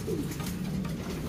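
Pigeons coo at close range in a steady low murmur of soft, repeated calls over a faint background hum.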